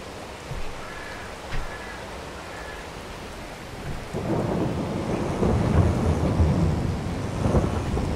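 Rain and thunder in the video game Farming Simulator 22, during a grape harvest with a tractor: a steady hiss of rainfall builds, then thunder rolls in long, loud rumbles. No one speaks.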